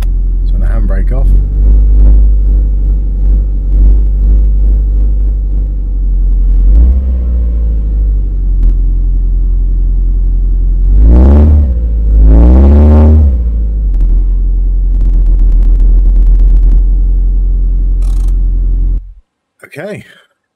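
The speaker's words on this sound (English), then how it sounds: "It's loud because we don't have an exhaust." A car engine runs with no exhaust fitted in the My Garage video game, a loud, steady low rumble that rises into two brief revs midway before cutting off near the end.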